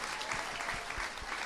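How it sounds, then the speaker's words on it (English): A studio audience at a live political comedy podcast taping gives a steady, full round of applause that carries evenly through the whole moment without a break. "please, a round of applause for Liz Merriweather"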